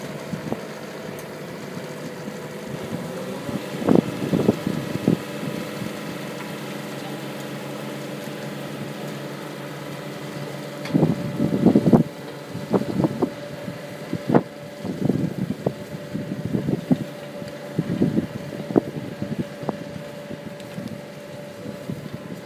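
A tractor-driven compost turning machine runs at a large composting operation, its engine idling steadily with a low rumble and intermittent louder knocking bursts and clatter, alone without voices.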